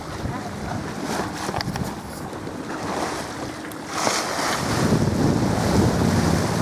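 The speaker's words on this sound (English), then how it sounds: "Just a little bit of wind." Wind buffets the microphone over steady ocean waves and surf while sailing on a sailboat, a continuous rushing wash that swells louder in the second half.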